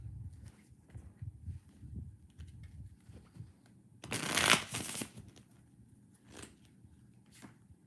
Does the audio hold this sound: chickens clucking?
no